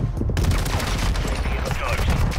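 Tempus Razorback rifle fire in the Modern Warfare 2 multiplayer shooter: a loud, dense, continuous stream of rapid automatic shots with game sounds and some voice underneath.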